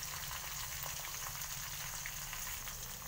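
Dry red chillies, green chillies and curry leaves sizzle in hot oil in a pan for mango rice pulihora, a soft continuous crackling fry, faint and steady, with no talking.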